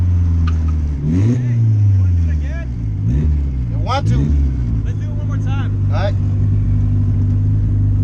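A fast car at a Mexican car meet revs and accelerates in several sharp surges, its engine loud and close from inside the cabin, while people talk and shout throughout.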